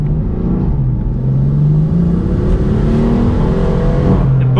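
BMW M4 engine revving on a downshift and then accelerating, a loud close-up droning exhaust note that climbs in pitch, dips and rises again as the car pulls hard uphill.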